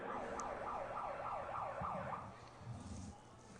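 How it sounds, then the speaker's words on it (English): A wailing siren at a high school football championship game sweeps up and down rapidly in a steady repeating pattern, a little distant, then cuts off leaving low crowd rumble. "I was wondering when we hear that siren"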